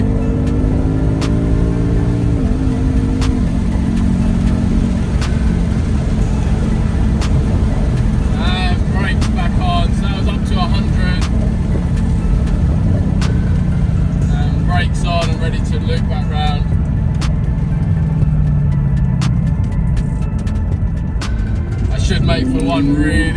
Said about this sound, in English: Mustang's kicking into gear.